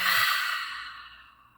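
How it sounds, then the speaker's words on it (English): One long, deep exhale during guided meditation breathing, a soft breathy rush that starts full and trails off slowly into quiet, heard alone and close. "And when you're ready, exhale it all out."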